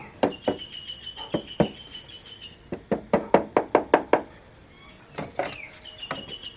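Sharp wooden knocks from tapping a handmade wooden kitchen spoon drawer to even out its gaps, arriving in irregular bursts and a quick run of a dozen or so close raps, with a faint high tone lingering in the background.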